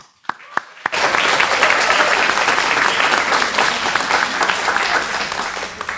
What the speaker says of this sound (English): Big round of applause for the 50th reunion and 60th reunion classes that are here.